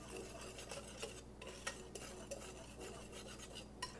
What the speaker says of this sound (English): go ahead and whisk those together.